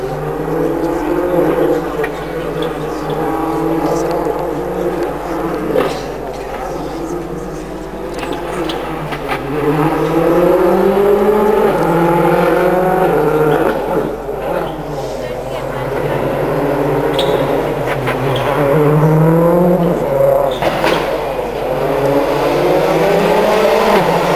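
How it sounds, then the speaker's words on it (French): A rally car's engine whirring and revving at the 2007 Tour de Corse, with rising and falling turbo tones, loud and continuous, while someone talks over it. "On n'entend quasiment pas sa voiture, juste les bruits de turbo."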